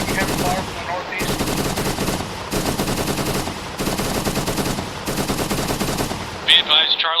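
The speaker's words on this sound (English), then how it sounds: "Charlie's taking heavy fire from the north" Heavy automatic gunfire during squad training, loud close bursts of rapid machine-gun fire repeating in long volleys with brief pauses, ending in a radio squelch.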